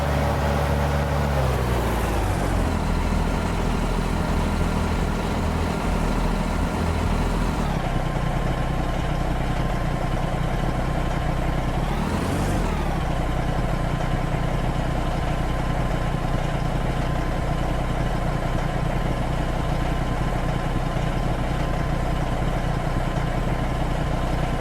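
A looped truck engine sound built for American Truck Simulator with an FMOD sound mod runs as a loud, steady low rumble, with two brief pitch sweeps early on before settling into a constant drone, with no voice.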